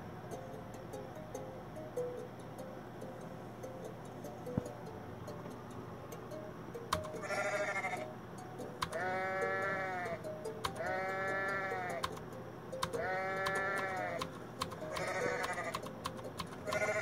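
Goats bleat in the Goat Simulator video game, several drawn-out wavering calls in a row over a faint ticking and quiet background hum.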